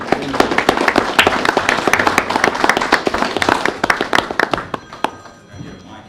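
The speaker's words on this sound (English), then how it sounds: "I think we all need to give him a good round of applause" Sparse, distinct hand claps from a small group at a county fiscal court meeting honour a firefighter's state Hall of Fame induction, the clapping thinning out and fading by the end.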